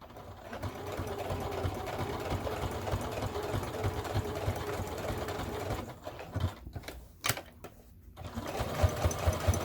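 A sewing machine stitches a fabric wallet with a steady, close mechanical whir that stops and starts near the end, with a brief click as the stitching pauses before running again.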